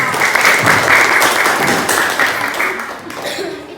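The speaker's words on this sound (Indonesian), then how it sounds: "Kasih tepuk tangan untuk kamu." Classroom group clapping for a student, a loud, dense burst of applause close by that gradually thins and fades, with faint chuckles and voices mixed in.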